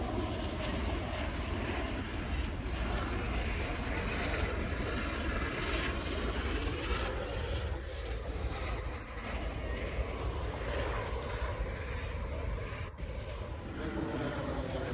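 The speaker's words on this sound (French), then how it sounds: "T'as vu les avions, Chacha?" Propeller airplanes drone overhead at an air show, a continuous broad engine roar that holds steady throughout, with faint voices of spectators underneath.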